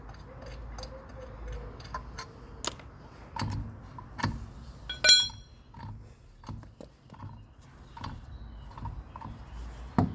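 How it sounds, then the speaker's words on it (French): Wheel nuts coming off during a wheel change: scattered metallic ticks, ratcheting clicks and clanks, close but fairly quiet, spaced irregularly with light handling noise between them. "on va pouvoir enlever les écrous"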